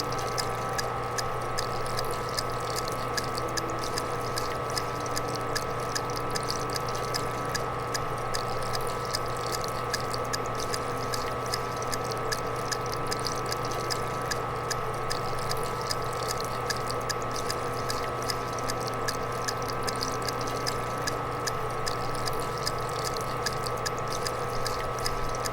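An embalming machine pumping fluid in A Game About Death, a steady mechanical whir with a constant hum and rapid ticking pulse running unchanged throughout.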